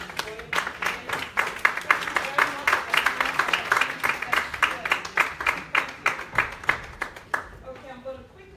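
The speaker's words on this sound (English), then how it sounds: "Can we all give her a round of applause?" An audience at the Every Woman Matters UK summit gives a round of applause for the Mayor of the Royal Borough of Kensington and Chelsea, a steady run of clapping that tapers off near the end, moderately loud.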